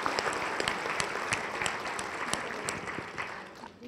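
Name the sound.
audience applause for the lecture organizers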